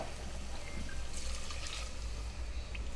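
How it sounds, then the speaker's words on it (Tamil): Water pours steadily into a cooking pot for tomato rice, a soft continuous splashing stream heard close under a low background hum, with no talking. "2 கிளாஸ் தண்ணி ஊற்றிக்கிறோம்."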